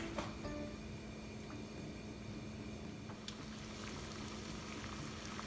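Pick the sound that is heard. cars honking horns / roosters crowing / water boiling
water boiling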